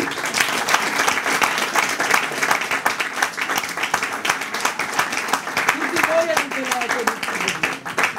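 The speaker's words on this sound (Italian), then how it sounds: "vi spiace fare un applauso?" Audience applause at a Milan presentation event, a steady wash of many hands clapping throughout, fairly loud and dense, with a few voices calling out near the end.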